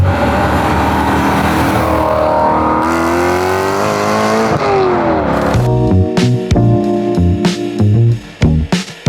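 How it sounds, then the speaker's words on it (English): A loud BMW engine fitted with an Eventuri carbon intake plenum drones and revs with a throaty intake roar, then sharp bursts of throttle blips close by. "get a ton of intake noise from the Eventuri carbon plenum"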